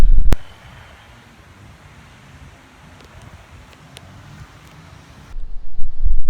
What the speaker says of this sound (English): It's a very, very windy day.